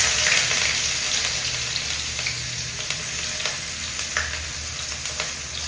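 Chopped ginger dropped into hot white oil, a loud, continuous close sizzle with scattered sharp crackles and spatters.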